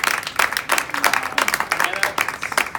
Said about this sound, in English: A big round of applause for Alana, who put this on,